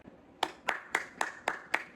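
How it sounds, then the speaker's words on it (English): Hands clap six times in an even, steady rhythm, each clap sharp and close though fairly quiet, with a short silence between them. "gotta clap it up"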